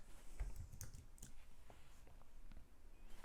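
Faint computer keyboard typing, with a few soft, scattered keystrokes as commands are entered on a Cisco 9800 wireless LAN controller configuration. Quiet room background, no voices.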